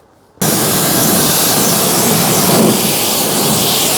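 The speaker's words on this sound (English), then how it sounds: "we're going to jet wash the under tray using Dad's new jet wash" Pressure washer spraying the underside tray of a Fiat Doblo, bursting on abruptly after a brief silence and then roaring as a loud, steady, close hiss with no speech.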